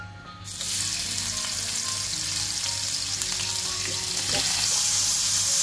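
Onion frying in hot oil for a chicken and bottle gourd curry, a loud, dense, continuous sizzle that starts with a sudden burst after a brief quieter moment, then holds steady and close.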